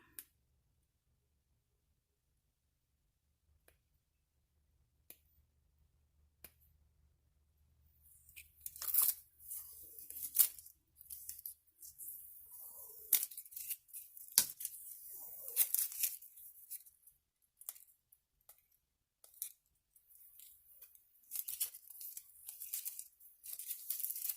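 Protective backing film being peeled off an acrylic blank for making silicone molds, starting near silence with faint ticks and then a string of close crinkly tearing and crackling bursts.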